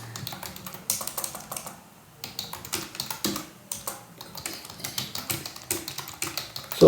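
Rapid, steady typing on a computer keyboard while entering Python code, with dense close-up key clicks in quick runs and only brief pauses.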